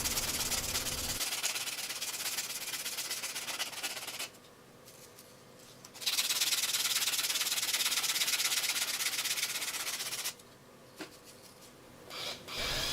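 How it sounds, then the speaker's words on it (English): Coarse 60-grit sandpaper rubs a spruce cone being shaped into a fishing lure, producing steady close hissing strokes in two long passes separated by a quiet pause. "I'm just going to round it off even more with some sandpaper. And this is grit 60."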